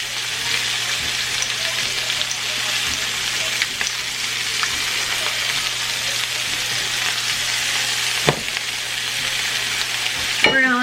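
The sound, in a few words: meat searing and sizzling in a frying pan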